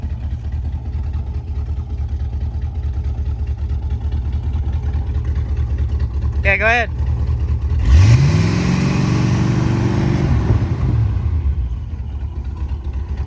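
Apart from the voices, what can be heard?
1974 Chevy C20 pickup engine revving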